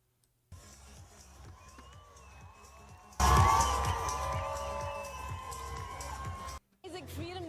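Crowds of Iranians cheer and whoop in a continuous mass of voices, starting moderate and jumping much louder partway through before cutting off abruptly, with shouting and chanting mixed in.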